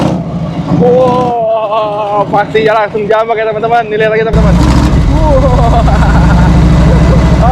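A 1982 Harley-Davidson Tour Glide with a 1340 cc engine rumbles loudly and revs in a deep, throbbing roar after someone speaks over it.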